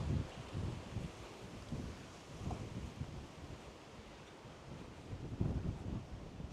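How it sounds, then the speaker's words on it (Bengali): Steady wind buffets and rushes past in a village in Hong Kong, a broad noisy roar with gusts swelling and easing, no voices. "কি বাতাস।"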